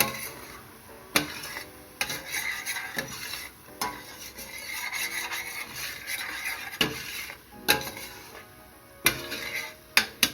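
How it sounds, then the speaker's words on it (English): A spoon stirs fenugreek leaves in a curry pan for pork and carrot curry. Sharp, irregular clacks of utensil on metal sound over a faint, low sizzle, with no one speaking. "Give that a nice stir."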